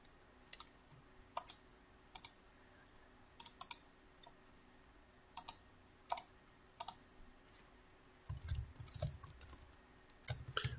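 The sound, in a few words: typing on a computer keyboard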